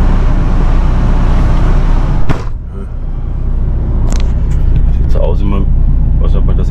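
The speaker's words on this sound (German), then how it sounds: "Jetzt fahre ich halt schnell rüber in den Hof" A car with a flat tyre rolls slowly across a yard, a loud low rumble and road noise running throughout, with a brief sharp knock midway and someone speaking over it.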